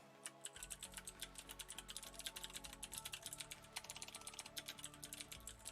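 Rapid clattering keystrokes on a computer keyboard, close and steady, with a low hum underneath throughout.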